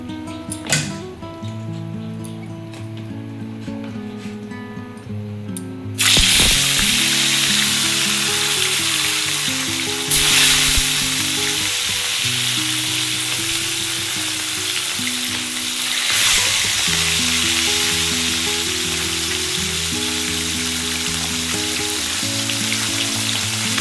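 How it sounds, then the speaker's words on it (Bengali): Bata fish frying in hot salted oil, a loud, steady sizzle that bursts up suddenly as the fish goes in and keeps crackling continuously, with brief surges and some lower kitchen hum beneath. "তেলটা আমার গরম হয়ে গেছে আমি এর মধ্যে একটু নুন দিয়ে দেবো দিয়ে আমি বাটা মাছগুলো ভেজে নেবো"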